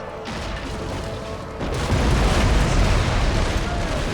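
Broadside cannon fire roars during a naval boarding battle in Empire Total War, a dense, continuous rumble of booms that swells louder partway through, with a voice talking over it.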